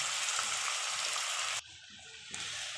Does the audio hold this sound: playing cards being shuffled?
no